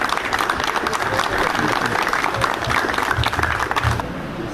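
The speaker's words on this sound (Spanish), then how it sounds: "Lo recibimos con un caluroso aplauso." Steady applause from a crowd at a street inauguration ceremony fills the space, dense clapping continuing throughout with some voices mixed in.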